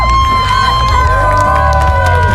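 A lively crowd at a motorcycle rally costume contest cheers loudly and continuously, voices overlapping in an excited roar close by.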